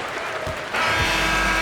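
Crowd cheering in an NBA 2K23 basketball game, a quieter arena hum that suddenly swells into loud, sustained applause and cheers.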